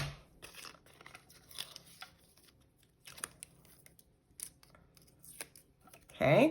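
A die cutting machine pressing a fish shape out of a cutting plate sandwich for a card project, with soft crinkling and clicking handling sounds, a brief spoken word, and a louder mechanical burst near the end.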